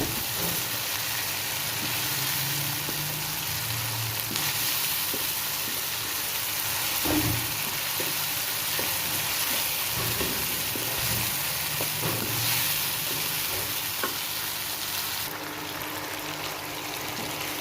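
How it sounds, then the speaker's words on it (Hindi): Hand-minced meat browning in spiced masala in a pan, a dense continuous sizzle with occasional spatula scrapes and taps, close and steady throughout. "कीमे को ना मैं भून रही हूँ"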